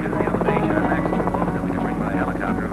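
A helicopter in Indonesia, 1967, near a Freeport mining site, a loud continuous rotor drone with rhythmic blade chop; a narrator speaks over it throughout.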